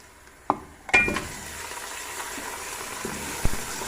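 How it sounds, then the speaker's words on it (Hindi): Garlic, onion and mutton trotters fry in a pan for Lahori paya, giving a soft continuous sizzle broken by a few sharp clinks and scrapes of a utensil against the pan. "लहसुन प्याज हल्का सा फ्राई हो गया, अब इसमें मैं पाई शामिल करूँगी"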